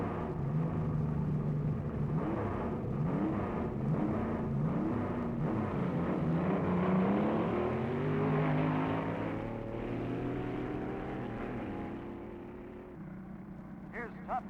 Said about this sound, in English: Now coming to the line is the car for you fans to watch. Moon Eyes, a dragster from California.